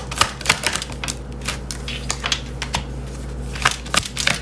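Tarot cards being shuffled by hand give sharp, rapid riffling clicks and snaps in irregular bursts, close and fairly loud over a low steady hum.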